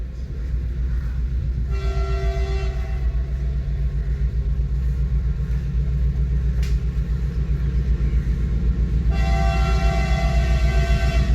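A train rumbles steadily past in Goa with a loud, continuous roar, and its horn blasts twice, once briefly early on and again near the end.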